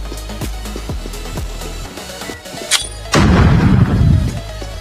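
In the mobile shooter Scarfall 2.0 on the Mumbai map, a grenade goes off with a loud, heavy blast and rumbling decay, preceded by a string of sharp gunfire-like thumps.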